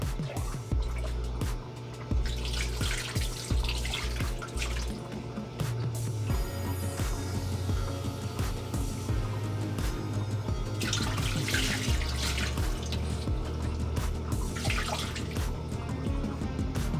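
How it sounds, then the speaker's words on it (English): Water splashes and drips as a hand is rinsed in an aquarium refugium being set up with Fiji mud, with continuous trickling and a low background hum throughout, no talk. "so I'm gonna rinse off my hand in there and kind of same deal, get some of this water, rinse my hand off."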